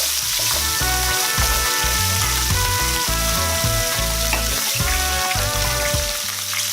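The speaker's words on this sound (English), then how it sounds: "We're cooking out the tomato paste." Tomato paste cooking out in a hot pan for oven beef short ribs, a dense, constant fry with bubbling and scraping, loud and close throughout.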